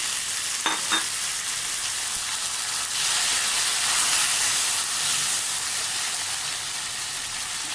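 Garlic, dried red chili and tomatoes frying in a pan, a loud, steady hissing sizzle that swells as the tomatoes go in, with a couple of faint utensil taps early on.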